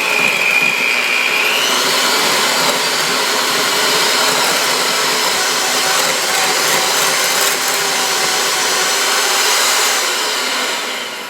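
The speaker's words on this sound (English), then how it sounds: "and now I'm just going to start whipping this." Electric mixer whipping chocolate cake batter, a steady loud whirring drone that holds evenly for the whole stretch with a brief higher whine at the start and no talking.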